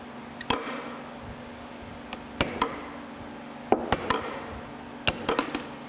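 A hammer strikes a punch to drive a tapered pin from the apron of a LeBlond lathe, giving sharp metallic clinks in irregular bursts of one to three blows with short pauses between them.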